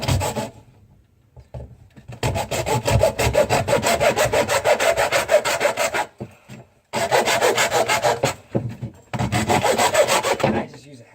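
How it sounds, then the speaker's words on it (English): Hacksaw cutting a garbage disposal drain pipe to length, close and loud, with steady rapid back-and-forth strokes in two long bursts separated by a brief pause, ending with a few shorter strokes. "I just use a hacksaw for this."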